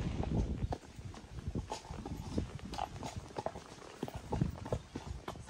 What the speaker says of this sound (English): So we've just got Finley out of his stable